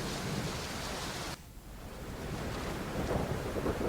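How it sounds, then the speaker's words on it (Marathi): Steady rain falling continuously in Jalgaon district, Maharashtra, a dense broadband wash that briefly drops after a second and then returns, sustained and close, with no voices. "पहाटेपासूनच अनेक भागांमध्ये संततधार पाऊस सुरू आहे."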